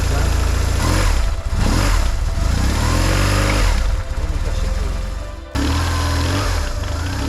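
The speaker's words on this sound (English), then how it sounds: "The boxer engine runs smoothly now" A motorcycle boxer engine runs steadily right after a gearbox oil change, its loud, close, even drone rising and settling in pitch before cutting briefly and resuming.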